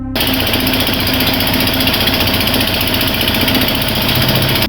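A powerful boat engine roars steadily at high speed along a narrow, winding canal in Barisal, a loud, continuous rattling drone with no pauses.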